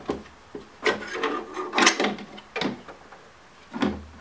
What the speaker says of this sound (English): if you unhook the indicator lens, you can remove that and get better access to the other two bolts